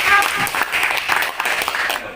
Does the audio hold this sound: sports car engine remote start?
no